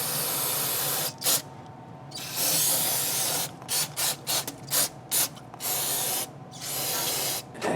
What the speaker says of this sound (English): I'm going to spray it here with some of this carb cleaner